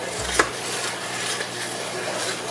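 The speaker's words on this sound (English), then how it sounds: "Give that a good stir." Spoon clinks and scrapes against the metal inner pot of an Instant Pot while liquid for pork tenderloin is stirred, with a sharp knock near the start and softer scraping after, close and moderately loud.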